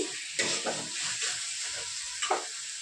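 Potatoes frying in hot oil, a steady soft sizzle close by, with a few scraping stirs of a spoon in the pan.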